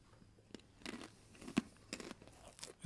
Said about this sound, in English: It's a nice and crunchy fried snack, and has nice tangy spicy flavor